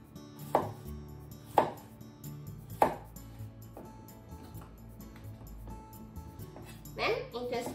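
A knife slices food on a cutting board in three sharp, separate cuts about a second apart, then a softer scrape near the end, close and fairly quiet.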